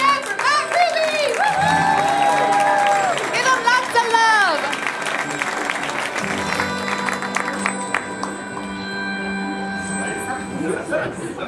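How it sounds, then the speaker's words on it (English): A comedy club crowd applauds and cheers for a stand-up comedian over loud walk-on music, with sustained clapping and whoops under the music while a voice shouts over the noise. "Start clapping right now for Matt Ruby!"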